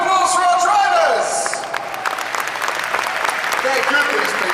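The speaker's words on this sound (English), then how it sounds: "a round of applause for our drivers." An audience at a racing car show applauds its racing drivers, with dense clapping and crowd noise filling the hall; a tonal electronic sweep fades out at the start and a voice speaks over the applause.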